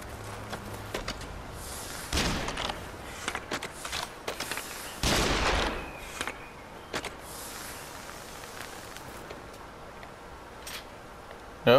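Shots ring out in the game Nioh, a few sharp loud bursts spaced apart among scattered faint clicks and ticks, heard mostly alone over a quiet background.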